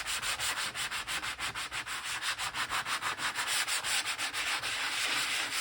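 A sanding block scrapes back and forth over paper, rubbing in black color in a steady, fast rhythm of rasping strokes, close and fairly quiet, with no talking.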